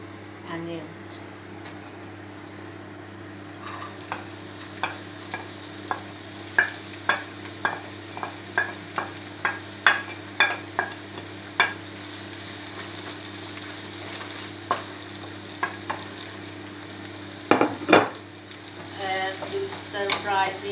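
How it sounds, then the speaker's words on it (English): Ginger, garlic and onion sizzle in two tablespoons of cooking oil in a pot, with a steady frying hiss punctuated by a regular series of scraping stirs, and louder clatter near the end. "Stir fry this to a bit golden brown and smell coming good."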